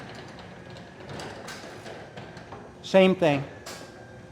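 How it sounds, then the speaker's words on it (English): A traditional garage door opens after its button is pressed, with a faint low motor hum and light scattered hinge creaks, and a brief spoken phrase near the end. "A little bit of hum and a little bit of hinge noise."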